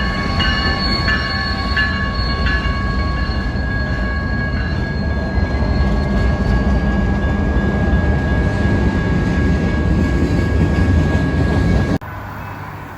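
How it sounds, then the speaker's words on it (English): A train rolls slowly through a railroad crossing in Monument, Colorado at about 10 mph, a steady loud rumble of wheels on rails with sustained high wheel squeal and tones, cut off abruptly near the end. "this train was going approximately 10 miles per hour or less"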